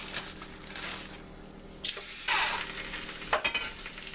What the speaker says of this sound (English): frying my tortillas.